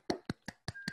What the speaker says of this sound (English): I give you applause.